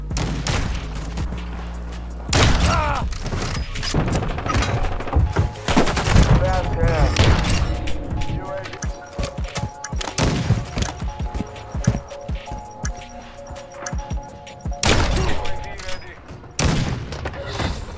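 Gunshots ring out in a shooter game, a mix of sharp single cracks and clustered bursts scattered over a busy background, with people talking between and over the shots.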